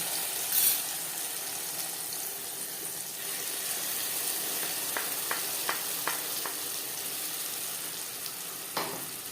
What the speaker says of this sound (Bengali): পনেরো কুড়ি সেকেন্ড কালো জিরে ভেজে নেওয়ার পর দিয়ে দেবো মশলা দিয়ে